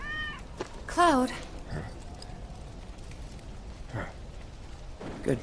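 A cat in Final Fantasy 7 Remake gives a clear, wavering meow near the start, with fainter sounds and a voice around it.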